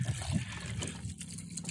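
Water is rinsed over a dirty KTM motorcycle part, a close, steady splashing and trickling flow with a few brief gurgles along the way.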